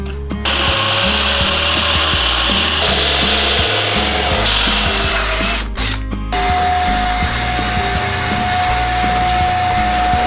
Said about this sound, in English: I'll drill all the big holes first.